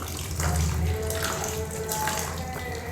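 Cold water poured over strained chenna in a cloth for rasgulla, a steady close splashing and trickling stream that runs through the whole clip with no talk.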